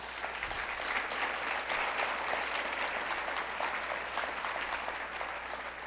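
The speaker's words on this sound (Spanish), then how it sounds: "Dale palmas a Él" Sustained applause from a church congregation during a sermon, steady and fairly distant, clapping continuously with no pause for several seconds.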